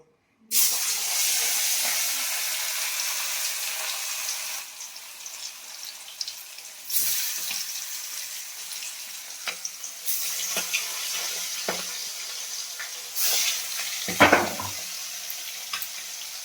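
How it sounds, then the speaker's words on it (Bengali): Hilsa fish pieces fry in a heated kadai, a broad, steady hiss that dips and swells with scattered pops and a brief loud flare of sputtering near the end. "মাছগুলো একটু ভেজে নেবো"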